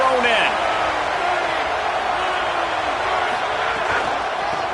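Stadium crowd in a college football video game, a dense, steady roar filling the whole stretch with faint whoops rising through the broad wash of noise.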